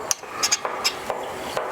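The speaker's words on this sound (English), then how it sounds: "get an awl, poke holes in the rim of the can" An awl is poked into the metal rim of a paint can, giving a series of sharp, close, irregular tapping clicks, about seven in under two seconds, with no talk.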